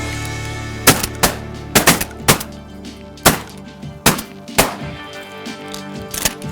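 Hunters fire shotguns in a marsh: an irregular volley of roughly eight sharp blasts, some in quick doublets, each trailing off into the open air.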